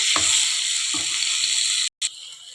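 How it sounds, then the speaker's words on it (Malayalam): Chopped tomatoes sizzle steadily in a hot pan while being sautéed for idli masala, with soft stirring scrapes now and then and a momentary break in the frying hiss. "ഇതിലേക്ക് തക്കാളി ചെറുതായത് വരണം കേട്ടോ. നന്നായി വഴങ്ങട്ടെ കേട്ടോ."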